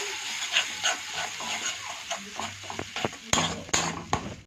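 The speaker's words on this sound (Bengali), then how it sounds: "ভালো করে মশলাটা আমি এখন কষাবো" Spice paste with tomato is stir-fried in a pan for a fish curry, close uneven spatula scrapes and clinks over a soft sizzle, with no clear speech.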